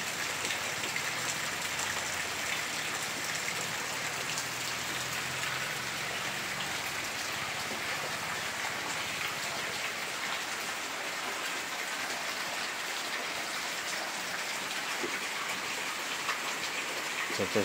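Heavy rain pours steadily on a rural house with rice fields nearby, a dense unbroken hiss that stays loud and even throughout.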